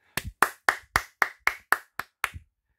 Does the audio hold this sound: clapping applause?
yes